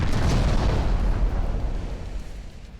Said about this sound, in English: The ammunition has just gone up in flames by some hit.